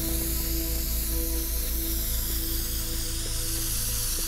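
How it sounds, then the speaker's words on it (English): Spray can hissing in the video game Teardown, a steady continuous spray held for several seconds over a constant mechanical hum, with no talk. "And then just spray can that."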